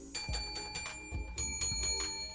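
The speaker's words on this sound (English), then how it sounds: "Blue and pinky Tuscadero bell ringing over there." A bell rings out at a college radio broadcast from Fayetteville State University, with clear repeated tones in a steady pattern and low thumps underneath, heard alone and fairly close.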